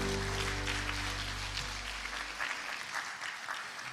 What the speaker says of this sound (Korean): 양육을 위해서 수고하신 분들을 위해서도 박수를 부탁드립니다.